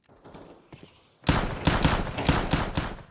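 Rapid gunfire from the first-person shooter CS2 played on an Avell B.On 145 laptop: soft shots at first, then a loud, sustained burst of rattling fire in quick rhythmic bursts.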